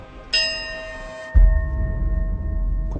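A bell is shaken at a shrine, giving a bright sustained metallic ring that holds for about a second, followed by a dull thump and a low rumbling background with a lingering faint tone.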